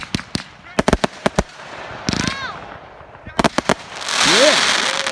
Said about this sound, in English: Devil's Curse. Big Star Fireworks.